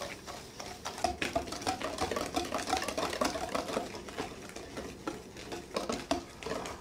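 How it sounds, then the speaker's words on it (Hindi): Sugar is lightly beaten by hand into red velvet brownie batter made with melted chocolate and oil, giving a steady, rhythmic scraping and slapping of whisk against bowl, close and moderately loud, without speech. "हल्का सा बीट करूँगा बहुत ज़्यादा नहीं करना"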